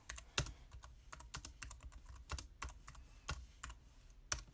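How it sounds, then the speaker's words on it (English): Someone types on a keyboard attached to a 2018 iPad Pro, with irregular quick key clicks and a few firmer taps close to the mic, no talk over them. "to prove I am texting on the keyboard, let's just say hi"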